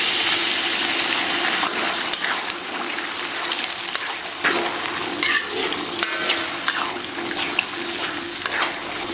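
A sauce stir-fried in a wok with scallion, ginger and garlic crackles and hisses loudly and continuously, with repeated sharp clanks and scrapes of a spatula against the metal, no speech.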